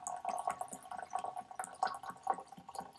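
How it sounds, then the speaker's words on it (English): Liquid is poured into a glass holding a tea bag, giving soft gurgling splashes and drips in short irregular bursts, close and fairly quiet with no voices. "And I am just going to pour"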